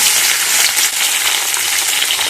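Potatoes and cumin seeds frying in hot peanut oil give a loud, steady, dense sizzle that crackles without break, with no voices over it.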